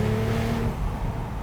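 Tuned Porsche 911 Turbo with a 6-speed manual, engine droning under load around mid revs with a strong low rumble that eases off partway through, heard from inside the car.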